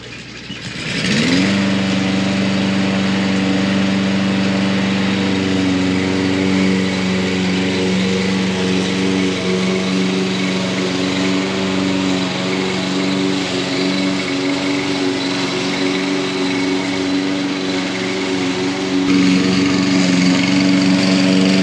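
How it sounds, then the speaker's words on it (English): A lawn mower starts up and runs steadily at a constant drone for about twenty seconds, loud and close, with a slight surge near the end and no talk. "Gonna get that mowed one more time so I can get that mower put away"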